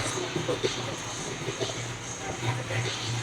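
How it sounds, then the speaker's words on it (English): A car engine rumbling low and steady just after starting up at the Cigars and Wheels car show, heard moderately close beneath people talking. "We've got a startup going on behind us."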